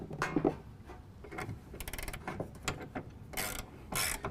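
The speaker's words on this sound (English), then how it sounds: "Again, I'm going to use my 14mm. Tighten this up." A ratchet wrench with a 14mm socket turns to tighten a clamp on a RetraxPRO XR retractable tonneau cover, giving quick, close, uneven bursts of clicking and rubbing between short pauses.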